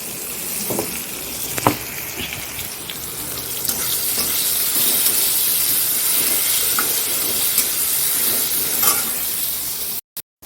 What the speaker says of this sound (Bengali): দেখো কেমন ফুটছে